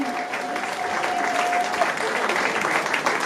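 A crowd applauds steadily at a wedding, many hands clapping together in a continuous, fairly loud patter with a faint tone briefly audible underneath.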